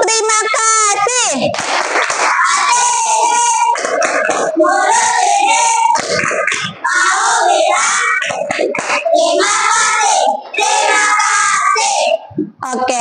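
Grade 5 primary schoolchildren in a classroom chant and clap the rhythmic 'tepuk terima kasih' routine together, loud and close, with crowded overlapping young voices and patterned claps running throughout.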